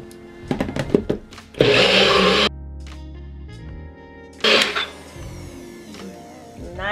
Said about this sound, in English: now that you've put everything inside your blender, we're going to just blend this up